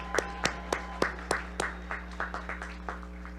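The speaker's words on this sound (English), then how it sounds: "One more rousing round of applause for these group of students." Scattered hand claps from a commencement crowd honoring a graduating university class at an outdoor ceremony in damp weather, a dozen or so sharp separate claps fading in density over a few seconds against a steady low hum.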